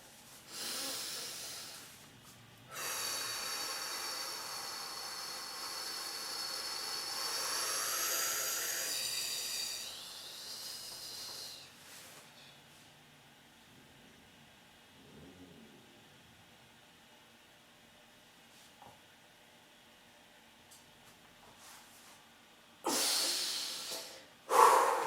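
Forceful nasal breathing during a stomach vacuum exercise: a long, loud hissing exhale through the nose, a quieter stretch of held breath, then a sharp inhale near the end, close and alone.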